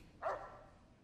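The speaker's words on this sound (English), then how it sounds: "What are you doing, dog?" A dog in the Fallout New Vegas video game lets out one short, fairly loud bark early on, followed by quiet game ambience.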